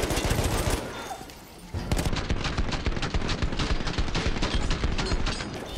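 Machine gun fire from an MG in Battlefield 1, a dense, continuous rattle of rapid shots after a brief lull, loud and close with sustained bursts throughout.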